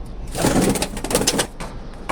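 Pigeons in a home loft where the birds are nesting on eggs, cooing in soft, overlapping murmurs close by, with no talking.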